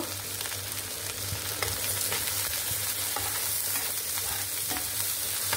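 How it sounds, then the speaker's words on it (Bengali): Chopped onion, garlic and green chili stir-fry in hot oil in a pan, giving a steady, close sizzle with light spatula scrapes and taps scattered throughout, and no voices. "এটাকে একটু নেড়ে ভেজে নিব।"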